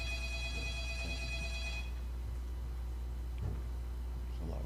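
A telephone rings during a county commission meeting, its bright electronic tone sounding steadily for about two seconds and then stopping, leaving low room hum with no talk.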